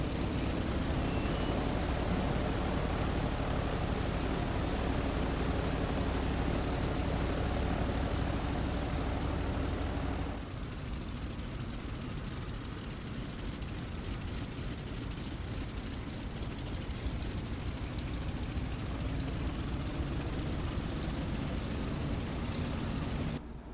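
F4U Corsair rolling along a runway in Microsoft Flight Simulator 2020, a broad droning engine roar that steps down to a lower, throbbing rumble about halfway through and continues steadily.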